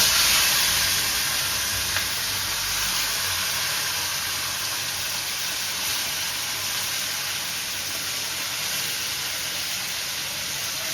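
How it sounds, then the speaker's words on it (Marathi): Chicken coated in turmeric, salt and chutney sizzles steadily in hot oil, a dense, continuous hiss close up that stays even and unbroken with no talking. "आणि ही बसली चिकनची फोडणी."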